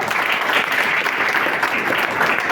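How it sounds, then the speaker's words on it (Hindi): A dense, even roar of audience applause fills a hall for a couple of seconds, many hands clapping at once with no voices standing out. "तालियां चाहूंगा।"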